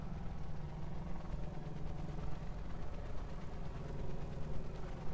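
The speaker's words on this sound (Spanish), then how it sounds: "Son varios helicópteros," Several helicopters in the Call of Duty Black Ops 4 Blackout mode give off a steady, dense rotor and engine drone, loud and continuous throughout with a low throbbing chop and no talk.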